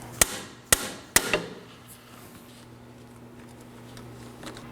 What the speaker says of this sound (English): I'm using a pry bar and hammer to remove this.